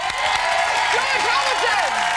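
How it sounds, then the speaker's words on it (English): A brief burst of studio audience applause and cheering for actor George Hamilton on a live television lunch show, loud and dense, with voices calling out over it. "George, round of applause."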